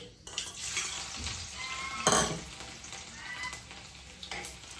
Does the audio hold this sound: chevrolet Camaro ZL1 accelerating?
no